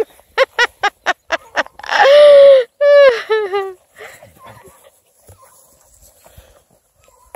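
Black and tan coonhound puppies yelp and whimper in a quick run of short high cries followed by longer whining howls, close and loud, then fading into quiet.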